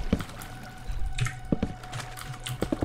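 Water being placed in a Minecraft PvP match on Badlion, heard as a few short splashing, pouring bursts among clicky taps and faint game noise, moderately quiet, with no talk.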